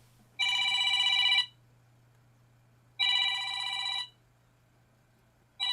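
A telephone rings in two long, even bursts with a pause between and the start of a third at the end, fairly loud against a steady low hum in a quiet room, with no talking.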